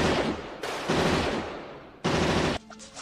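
Rapid gunfire at a police shooting range from the 1987 RoboCop film, two loud sustained bursts of dense automatic shots separated by a short gap, close and harsh, ending in lingering echoes.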